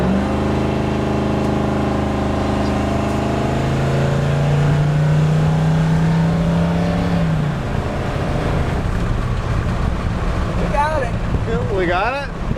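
Car accelerating at full throttle in a 0 to 60 run, the engine note rising steadily through the gears, loud and close from inside the cabin, with a sharp shift change and some talking toward the end.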